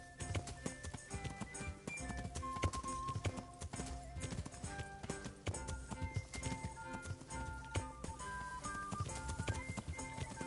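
Horse hooves clip-clop steadily in Kingdom Come: Deliverance, a rapid rhythmic trot against game music and ambience, fairly faint overall.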